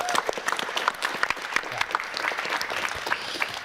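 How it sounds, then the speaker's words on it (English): Audience applause at a MINECON 2016 talk, a dense steady patter of many hands clapping throughout, fairly close and loud, with a few scattered voices in the crowd. "Let's give James a round of applause."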